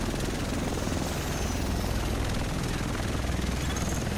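Helicopter from The Division whirs with a steady, loud broadband drone and rotor throb, continuous throughout without talk.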